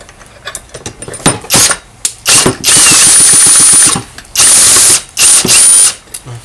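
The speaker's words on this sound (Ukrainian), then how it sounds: "Пробуємо крутити і дивитися, чи є іскра." The pull-starter of a Svitiaz petrol chainsaw with no spark is yanked several times, loud close ratcheting rasps in repeated bursts separated by brief pauses.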